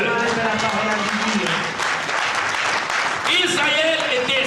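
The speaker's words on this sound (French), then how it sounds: "Est-ce que nous pouvons acclamer pour la parole de Dieu?" A church congregation bursts into applause, a dense wash of clapping that runs for several seconds. Voices cheer over it near the end.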